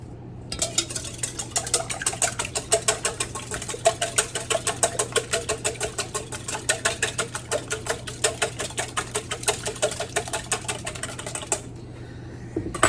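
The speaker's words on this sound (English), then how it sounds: "I'm gonna give them a good whisk." Eggs for peach bread pudding are whisked briskly in a bowl. Rapid, even clicking strokes run close and steady for about eleven seconds, then stop abruptly.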